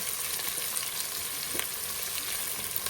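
Onions fry in a pan to turn brown, giving a continuous, close, hissing sizzle that stays even for the whole stretch with no voices.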